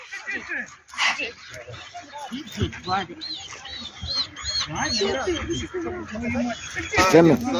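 Several purebred dogs bark and yip in short, scattered bursts amid a busy, talkative Halloween event at a dog breeding club, close by and fairly loud.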